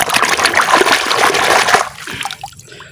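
A toy sand truck is washed under running water, with close, loud splashing and trickling that fades into a few lighter drips near the end.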